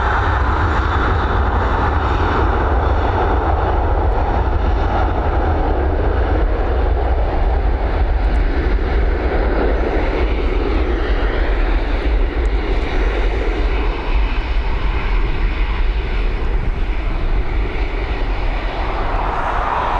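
A jet airliner departs Dublin Airport bound for Birmingham, its engines spooling into a loud, continuous, rumbling roar that holds steady throughout, close by and unaccompanied.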